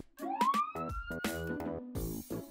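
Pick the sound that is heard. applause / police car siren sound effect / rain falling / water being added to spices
police car siren sound effect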